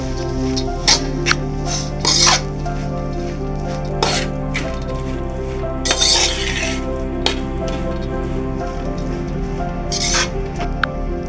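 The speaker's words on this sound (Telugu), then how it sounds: "పాలకూర వేసుకున్నాం కదండి ఒకసారి కలుపుకుందాము" Spinach and moong dal sizzle in a hot cooking pan as a spoon stirs them, giving a steady frying hiss with repeated scraping clicks and bursts of louder crackle, close and without talking.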